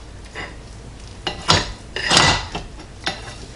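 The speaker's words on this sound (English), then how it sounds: "I'm just going to cut some slices for taste testing" A knife cuts slices from a rotisserie-grilled leg of lamb resting on a plate, giving a few close, soft scraping and clinking strokes in short separate bursts.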